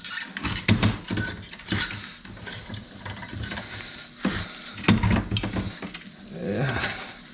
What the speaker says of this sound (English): get a 1/2 inch tap, and we'll run a tap through it.